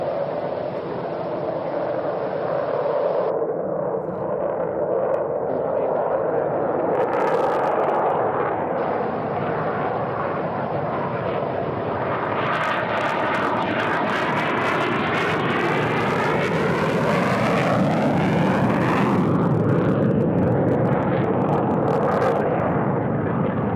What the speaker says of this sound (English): Another F-16 on the way.